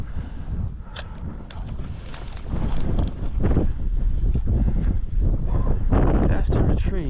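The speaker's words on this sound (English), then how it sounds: "It's very windy" Steady roaring wind buffets the microphone on a fishing boat in Pine Island Sound, with low rumbling gusts that grow louder partway through, over faint water and boat noise.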